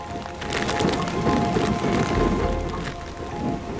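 Heavy rain pours down with gusting wind on rocky hunting ground in Abenójar, a steady dense wash of sound that swells and eases over a few seconds, with no talking.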